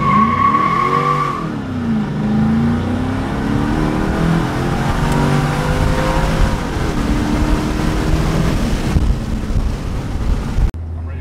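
A Mercedes CLK55 AMG, freshly tuned, revs hard on a test run, its engine note rising and falling as it accelerates, loud and close throughout with a strong steady drone.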